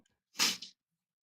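A single close, loud sneeze, short and sharp, alone in a quiet room during a casual home conversation.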